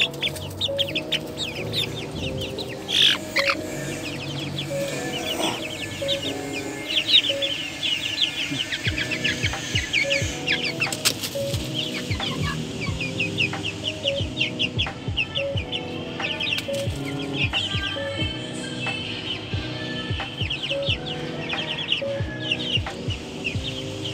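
Black Australorp chickens cluck continuously in a roomy new cage, many overlapping nearby calls with occasional louder squawks over steady farmyard background.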